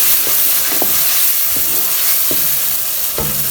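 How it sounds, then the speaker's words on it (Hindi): Spices, tomatoes and green chilies fry in a pan for aloo curry, giving a loud, steady sizzle and hiss close by, with a few soft scrapes and knocks from stirring spaced through it. "अब हम इसको लेते हैं थोड़ा सा भून"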